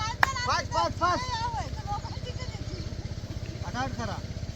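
A farm tractor engine chugs in a fast, even rhythm in a field, running close and steady while people talk over it.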